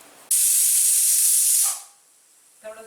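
A pressure cooker with coconut milk biryani inside releases steam in a loud, steady hiss lasting more than a second, then cuts off, followed by a faint clink.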